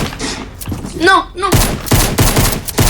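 Heavy shotgun blasts in a first-person video game firefight, several loud booming shots in quick succession dominating the second half, preceded by a short exclamation and a brief electronic warble.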